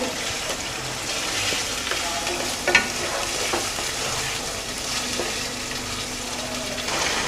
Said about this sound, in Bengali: চিকেনটাকে মশলার সঙ্গে ভালো করে মিক্স করে নিয়েছি 2 মিনিট 3 মিনিট মতো ফ্রাই